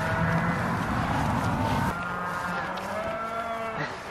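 Cattle mooing nearby, several long drawn-out lowing calls overlapping one another over a steady outdoor background hum.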